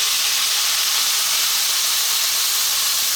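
Vinegar hits a hot pan for a Chinese braised pork rice bowl, letting out a loud, steady steam hiss that fills the whole moment without a break, with no voices.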